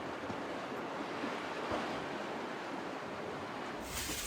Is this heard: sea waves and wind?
yes